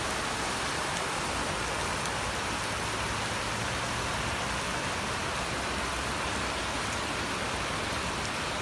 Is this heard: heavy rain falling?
yes